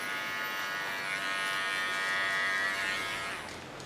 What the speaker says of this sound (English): With my small clipper I clean the contour nice, strong.